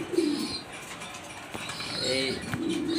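Fancy pigeons kept for sale coo softly in a loft, several throaty coos rising and falling close by, with faint wing rustles and a voice murmuring in the background.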